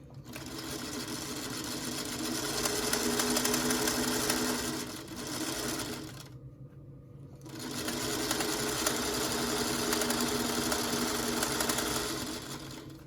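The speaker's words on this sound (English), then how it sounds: "The first thing I'm going to do is sew these 2 strips together using a 1/4 inch seam allowance." A sewing machine stitches two fabric strips together with a quarter-inch seam, running as a fast, even mechanical whir close by, briefly pausing near the middle before starting up again and carrying on to the end.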